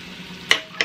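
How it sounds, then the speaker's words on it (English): Peppers, celery and jalapenos hit a hot pan with a sharp sizzle, two quick bursts of frying hiss over a faint background crackle. "now I'm going to put in the peppers and celery at the same time"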